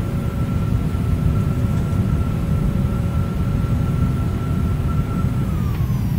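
Simulated Boeing 757 freighter engines roar loudly on thrust reversers during the landing roll in X-Plane 11, a steady dense rumble with a faint whine running underneath and no pauses.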